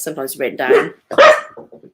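A dog barks indoors, a couple of sharp nearby barks mixed in with a person speaking close to the mic.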